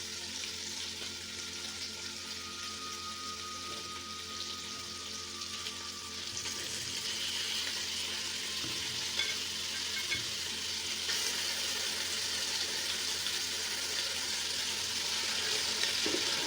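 Ginger garlic paste fries over a medium flame in a pan for a mutton pulao, giving a continuous, even sizzle that holds steady and grows slightly louder throughout.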